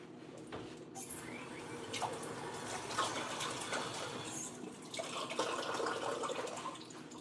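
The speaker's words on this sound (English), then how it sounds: "Let me rinse my spoon." Running tap water splashes over a spoon being rinsed in a kitchen sink during cooking, a steady broadband rush with faint drips, moderately close and continuous with no talk.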